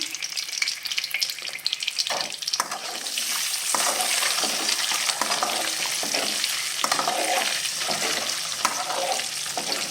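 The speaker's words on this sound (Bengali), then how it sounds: "পাঁপড় ভেজে এই তেলটাতে আমি ডিমটা ভেজে নিচ্ছি" Egg frying with a little turmeric in leftover papad-frying oil, a close, steady crackling sizzle with stirring and scraping that thickens after the first few seconds; no talking.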